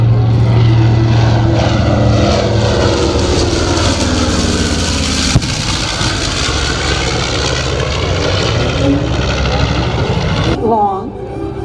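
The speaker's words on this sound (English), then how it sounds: "Here comes that B-25 bomber again." A B-25 bomber warbird, powered by two Wright radial engines, roars low over an airshow with a loud, sustained propeller drone that shifts in pitch as it passes, then fades at the end.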